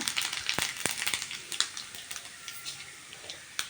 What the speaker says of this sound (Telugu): అదే ఆయిల్లో ఆవాలు జీలకర్ర వేసుకుంటున్నా